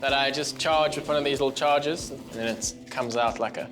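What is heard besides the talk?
No distinct noise like a dog, phone or traffic.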